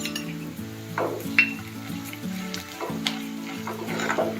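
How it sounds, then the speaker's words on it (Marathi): Ginger-garlic paste dropped into onions frying in a pan, heard as a soft sizzle with light spoon clinks and scrapes against the pan, close and continuous with no talk. "आता त्याच्यामध्ये आलू लसूणची पेस्ट टाकते एक चमचा"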